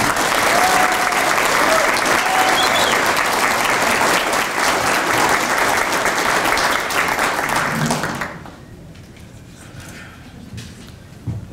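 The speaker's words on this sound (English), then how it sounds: "let's have one more round of applause for this group of recipients" A ceremony crowd claps loudly for Platinum Jubilee medal recipients, thick sustained applause that cuts off sharply near the end, leaving a quiet room with faint murmuring.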